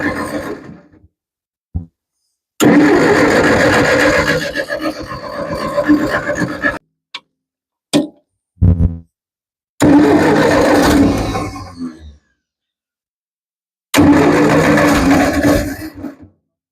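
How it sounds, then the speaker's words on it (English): An old tractor with a fuel problem, choke being adjusted, is cranked in three loud bursts of several seconds each, separated by short clicks and silence, with the engine never settling into a steady run. "So, let's see if it starts."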